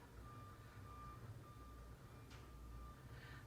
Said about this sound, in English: I'm backing the truck up.